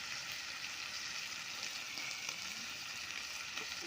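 Fish frying in a wok and turned with a spatula for a Hajong-style fish tapa made with one spoon of oil, a steady close sizzle with faint scraping stirs throughout.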